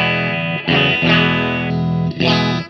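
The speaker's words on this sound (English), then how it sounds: "Neck pickup." Clean electric guitar on the neck pickup through a Laney L50H clean channel and quad cabinet, sustained chords ringing out loud and alone, with a few fresh strums restarting the sound.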